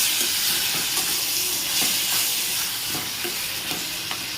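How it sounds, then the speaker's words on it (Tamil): Tomatoes sautéing in a pan for mutton gravy make a loud, continuous close-up sizzle and hiss, with repeated soft scraping stirs and no voices. "தக்காளி சேர்த்துட்டு அது கொஞ்சம் நேரம் நம்ம வதக்கிக்கிறேன்"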